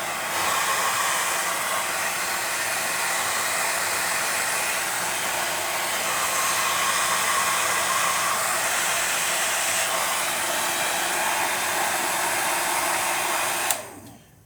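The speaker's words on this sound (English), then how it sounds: "So I'm about to crank up my Vidal Sassoon hair dryer and dry this paint." A Vidal Sassoon hair dryer blows steadily at close range for about fourteen seconds, drying paint on a clock case, its loud even whoosh running without a break before cutting off sharply at the end.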